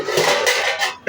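Pork being stir-fried in a pan for a Bengali jomatiya pork dish, with a steady, close, continuous sizzle broken by clinks of metal utensil against the pan, and no voices over it.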